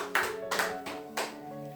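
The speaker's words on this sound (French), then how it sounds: "Applaudissons la parole de Dieu" A church congregation claps in a slow, uneven rhythm, with a few sharp bursts of clapping over sustained keyboard-like tones and no talking.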